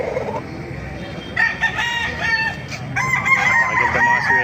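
Sweater gamefowl rooster crowing close and loud, two drawn-out crows in a row over faint background clucking.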